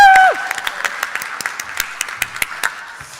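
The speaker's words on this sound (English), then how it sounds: "let's applause for that to the team" After a brief tone, a small audience at a Web Summit session applauds with sparse, distinct claps spaced irregularly, fairly close and thinning out over a few seconds.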